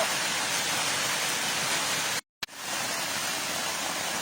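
Steady roar of heavy rain and wind noise, broadband and loud, cut by a brief dropout of silence midway before the downpour resumes.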